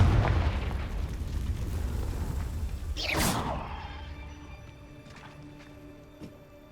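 A booming Confringo blasting-spell explosion from Hogwarts Legacy bursts out of a rumbling battle, followed by a bright crackling flare and a fading, ringing tail.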